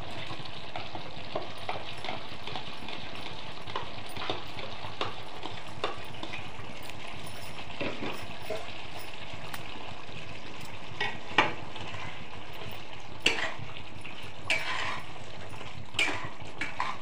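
Fried paneer sizzles and is stirred into gravy in a pan, a soft steady frying hiss with occasional scrapes and clinks of the spoon, fairly quiet and without talk.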